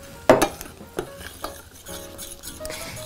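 A spoon stirring semolina porridge in milk in a pot, a sharp metallic clink at the start followed by several softer scraping strokes against the pot, close and fairly quiet with no talking.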